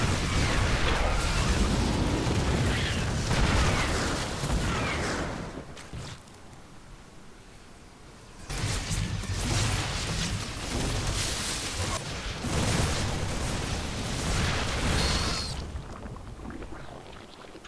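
A StarCraft II battle has roaches attacking sieged tanks, with dense continuous explosions and weapon fire that fade briefly near the middle, then return at full strength.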